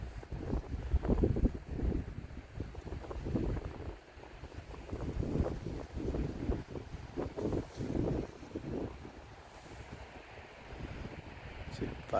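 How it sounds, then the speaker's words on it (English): Strong wind buffets a camera microphone outdoors on a public-land elk hunt in Oregon, a continuous low roaring rumble with gusty swells throughout, fairly loud and steady with no clear talk over it. "Pretty windy, so it's hard to keep it steady."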